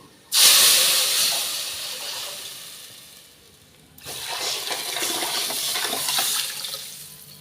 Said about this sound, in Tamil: இந்த புளிய தண்ணியை தூக்கி ஊற்றி